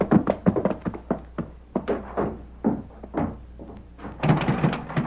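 Knocking on a wooden door at a ranch house in an old Western radio drama, a run of sharp raps in quick bursts, close and fairly loud, repeated across the clip with no voices.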